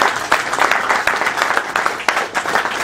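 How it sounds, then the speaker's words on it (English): Audience at a panel event gives a brief round of applause, a dense burst of clapping with a few sharper claps standing out, fairly close and loud for about three seconds. "Let's give a big round of applause for that."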